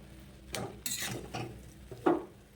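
Grated coconut and chopped dry fruits are stirred into semolina for modak with a spoon, giving a few soft, separate scraping strokes close by at low volume.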